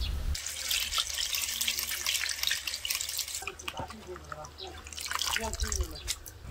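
Tap water runs and splashes steadily into a sink while wild weeds are rinsed for kimchi, with clattering handling noises and a voice talking briefly in between.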